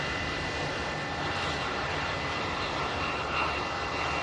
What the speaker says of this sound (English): The British Airways shuttle service just taxiing past us as well.